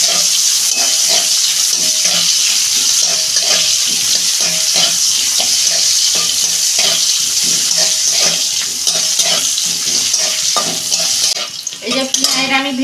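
Black cumin and a little onion fry in hot oil for a home-style fish curry, a loud dense sizzle with rhythmic stirring scrapes, ending in a brief clatter.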